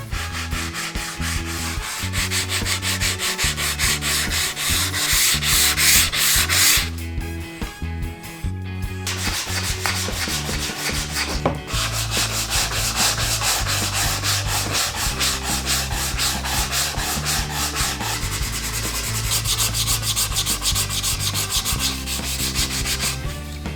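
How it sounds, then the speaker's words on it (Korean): Sanding paper rubs steadily over the sharp wooden edges of a desk-style multipurpose box, making a continuous close rasping scrape with brief changes in pressure and a short pause. "면 샌딩 후에는 날카로운 모서리 부분도 정리해 줍니다."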